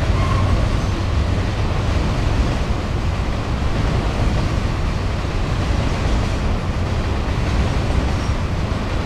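An eastbound oil train hauled by CSX locomotives rolls past at North Adams, Massachusetts, its loud, continuous rumble and wheel roar steady and close, with wind noise and no talking.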